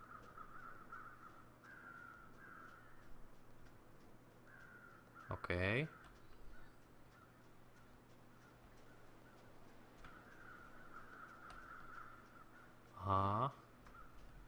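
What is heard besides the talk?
crows cawing in the video game The Long Dark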